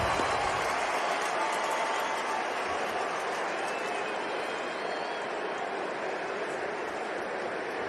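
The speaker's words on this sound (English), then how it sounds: "Nice round of applause for the security at Dodger Stadium" A large stadium crowd at Dodger Stadium during an Angels–Dodgers baseball game applauds security staff, producing a steady, dense wash of clapping and crowd noise that holds evenly throughout.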